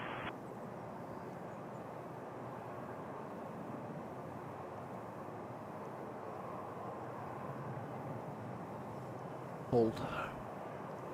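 A Boeing 777-200LR airliner departing Toronto's runway 05 gives a low, steady, distant engine roar that holds evenly, with a short burst of radio voice near the end.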